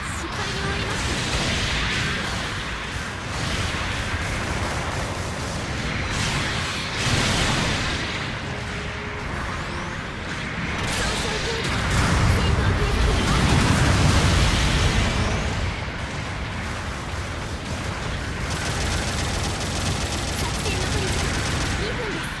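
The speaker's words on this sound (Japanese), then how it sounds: "後方部隊からの支援砲撃が来ます。" Support artillery bombardment in Mobile Suit Gundam Battle Operation 2 rolls on as a continuous barrage of booms and blasts with dense battle noise, swelling in the middle.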